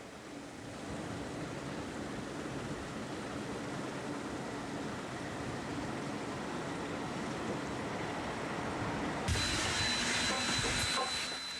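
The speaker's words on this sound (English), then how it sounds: "Steam trains pull the passengers to the outside of the city" A steam train on a narrow-gauge railway rumbles along steadily, and a sharper hiss of steam breaks in near the end.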